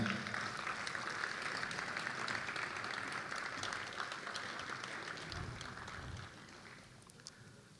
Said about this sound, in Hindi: आपकी बहुत सारी तालियों में।